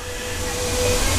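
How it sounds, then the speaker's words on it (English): The Walt Disney World Railroad train rolls along at the Orlando theme park, a loud continuous rumble of rail noise with faint high squealing from the wheels and no voices. "Welcome aboard the Walt Disney World Railroad at this time."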